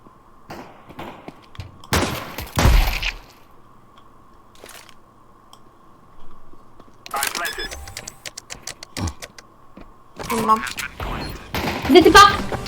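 Gunfire in Counter-Strike 2, several sharp bursts of shots scattered across the stretch with quiet gaps between, heard alongside players talking over voice chat and clicking keys.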